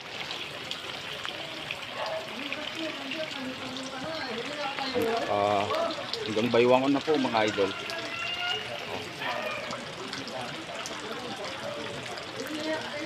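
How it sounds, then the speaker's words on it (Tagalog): Continuous patter of typhoon rain and splashing flood water on a street, with someone talking over it throughout, his voice rising in the middle. "Tuloy-tuloy pa rin ang pag-uulan."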